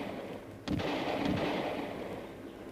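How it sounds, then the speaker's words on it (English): Shots ring out from game bird shooting for pheasant and grouse, a few dull muffled bangs at a distance over steady outdoor background noise. "Shooting season's just started."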